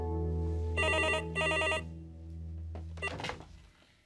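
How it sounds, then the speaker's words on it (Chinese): An old-style telephone bell rings in two quick, loud bursts over a low sustained musical drone, then fades into scattered clatter. "电话在响啊啦"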